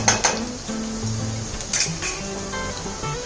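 Garlic, chili and ginger being sautéed in a pan for restaurant-style chilli chicken, with a light sizzle under repeated metallic clinks and scrapes of a utensil against the pan, close and moderately loud.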